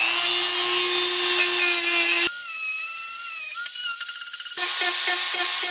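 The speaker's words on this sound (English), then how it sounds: "using the Dremel tool" A Dremel rotary tool grinds on a steel knife blade in a home knife-making shop, giving a loud, steady high whine that drops out partway through and then returns. No one speaks.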